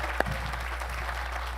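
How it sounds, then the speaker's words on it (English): A room of people applauds at a Ronald Reagan memorial tribute: a short, steady wash of clapping from a seated audience, with one sharper clap near the start. No one speaks over it. "Quick round of applause."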